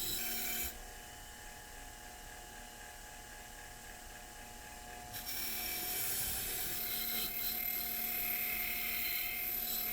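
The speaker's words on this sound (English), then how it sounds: "The wire wheel does a really nice job getting off all the rust, the grit, and the nickel plating." A wire wheel scours rust, grit and nickel plating off the screw threads of an antique router plane. It is a steady, close whirring grind that starts abruptly and turns louder and harsher halfway through.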